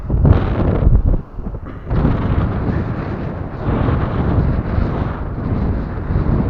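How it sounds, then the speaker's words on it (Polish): Strong wind on a beach at Łeba buffets the microphone with loud, rumbling gusts, briefly easing before roaring again. "Jest wiatr, który w tym momencie nam pomaga"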